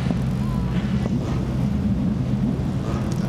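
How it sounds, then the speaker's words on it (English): Ferrari race cars on the starting grid at the Goodwood Revival Sussex Trophy, several engines running together in a steady low rumbling drone, with wind noise across the microphone. "So all the engines are running."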